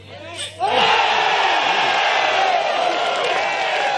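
A disc golf crowd erupts in loud, sustained cheering and whooping for a birdie putt thrown in from 115 feet. A brief shout comes first, then the roar stays steady to the end.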